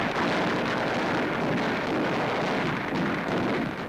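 Continuous roaring rush of flamethrowers scorching Japanese positions during a Pacific island assault, a dense broadband whoosh that holds steady without pause in grainy archival newsreel sound.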